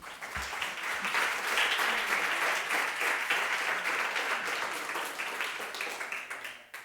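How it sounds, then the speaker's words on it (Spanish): Applause from the audience at the Mujeres Sin Barreras women's event, a steady wash of many hands clapping at moderate level, swelling early and tapering off near the end. "Un fuerte aplauso para ella"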